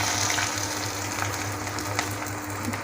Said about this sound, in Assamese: পিঁয়াজখিনি দি মই কিছু সময় ভাজিম যেতিয়ালৈকে ইয়াৰ কালাৰ চেঞ্জ নহয়।